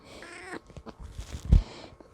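A house cat meows loudly and insistently at close range, several drawn-out cries ending in a sharp, strong yowl, with no talk over it.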